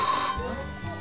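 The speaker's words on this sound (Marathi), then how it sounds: "फोन आलाय." A telephone rings in a Marathi comedy serial scene: a brief electronic ringtone with bright repeating tones, heard close and clear with no talking over it.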